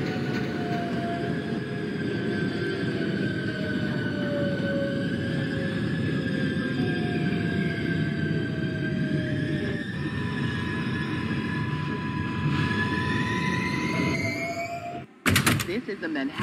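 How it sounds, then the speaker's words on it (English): An R142A subway train runs on a 6 express route in the OpenBVE train simulator, giving a steady loud rumble with whining motor tones rising and falling, wheel squeal, and a sharp burst near the end. "This is a Manhattan-bound 6 express train"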